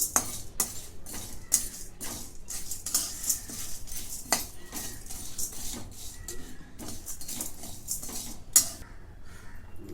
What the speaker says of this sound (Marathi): भाजून घेते मिरच्या